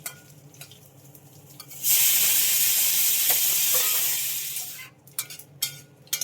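Dried red chillies and other tempering spices hit hot oil for a lively pan seasoning, bursting into a loud, steady hiss that fills the middle of the clip, then fading to scattered crackles and small pops near the end.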